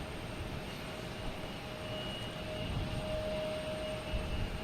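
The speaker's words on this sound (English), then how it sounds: "You got JetBlue here taking off to Sacramento." A JetBlue Airbus A220 takes off from Boston Logan Airport for Sacramento, heard as a faint, distant, steady jet hum with a thin whine, swelling slightly toward the end.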